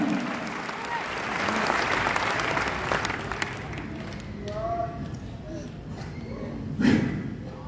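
A church congregation at a revival service claps and cheers in praise, a broad wash of applause that fades as voices carry on over it, with a louder burst near the end.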